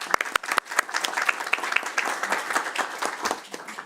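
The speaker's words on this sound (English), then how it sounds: "we'll clap" Applause in a committee meeting room after an election at the 177th session of an Executive Committee, starting with a few separate sharp claps and quickly filling into steady, moderately loud clapping from the assembled members.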